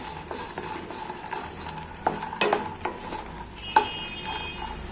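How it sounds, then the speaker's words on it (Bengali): Peanuts and fox nuts (makhana) being stirred as they fry in a pan, a steady soft sizzle broken by a few sharp clinks of a spoon against the pan. "আমরা এখানে দিয়ে দেব মাখানে। এটাকেও একটু ভেজে নেব আমরা।"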